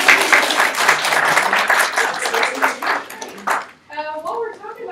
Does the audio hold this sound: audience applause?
yes